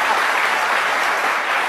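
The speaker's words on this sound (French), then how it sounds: "Ovation pour Ferregola." An audience gives Ferre Gola a sustained burst of applause and ovation, with dense, even clapping filling the room and no break.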